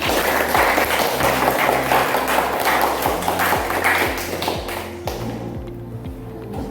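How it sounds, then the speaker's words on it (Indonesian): Loud, dense clapping from an audience at a presentation fills the space, continuous and steady before thinning out toward the end. "tepuk tangan lagi"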